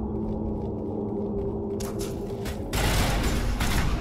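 Gunfire in the sci-fi shooter Mass Effect, fired while sniping Geth: a dense, steady rattle of weapon noise that swells louder about halfway through, with no voices.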